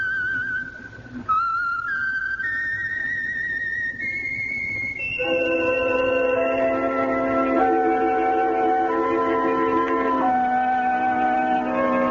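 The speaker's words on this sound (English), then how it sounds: "Let that whistle be your signal for the Signal Oil program, The Whistler, each Sunday night at this same time." A train whistle serving as the signal for the Signal Oil radio program sounds in a series of clear, sustained tonal blasts that rise in pitch, then gives way to a fuller chord-like whistle held for several seconds, loud and alone.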